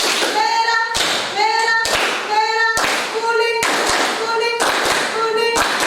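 A class of schoolchildren claps their hands together in repeated bursts of rhythmic clapping, close and loud, with a teacher's voice speaking between the bursts.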